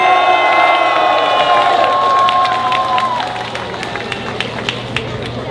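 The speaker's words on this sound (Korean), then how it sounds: "많은 큰 박수 다시 한번 부탁드리겠습니다" A crowd of about 800 at an outdoor youth rally in Gwanghwamun claps and cheers, a loud sustained roar of applause and voices that slowly fades, with a sustained tone audible early on.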